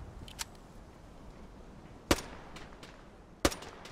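Two sharp, isolated sniper rifle cracks from the video game Fear The Wolves ring out about a second and a half apart, with a smaller pop early on, over a quiet background.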